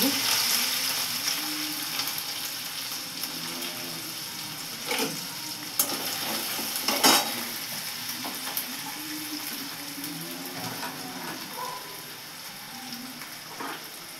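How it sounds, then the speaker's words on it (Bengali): Onion fries in a pan with a steady, moderate sizzle, mixed with intermittent stirring clatter and a few sharper knocks, fading a little toward the end. "পেঁয়াজটা ভাজা ভাজা হয়ে গেছে"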